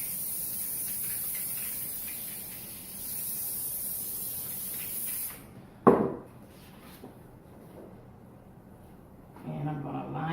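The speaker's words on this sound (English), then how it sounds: "we're just gonna spray on a little spray adhesive here" A steady aerosol hiss sprays for several seconds, stops, then a sharp knock and a short burst of spraying near the end.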